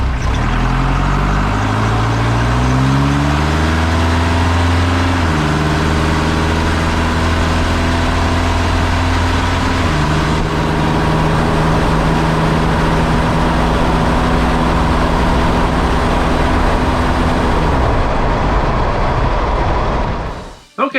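Diesel engine of a right-hand-drive Jeep Wrangler TJ heard while driving, a steady loud drone that steps up through the gears with shifting pitch, continuous and close, cutting off at the end.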